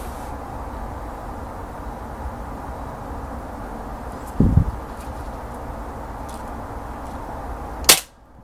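An air rifle fires Baracuda Light pellets in one sharp, close crack near the end, after a brief muffled thump midway, over steady outdoor background hiss.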